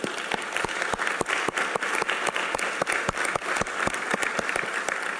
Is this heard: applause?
yes